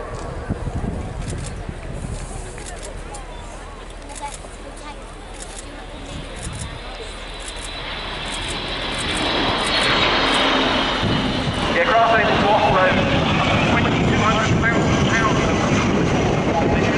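A KC-135 tanker aircraft flies past at the RIAT 2017 airshow, its jet roar swelling from a distant rumble to a loud, broad rush in the second half, with a commentator talking over it.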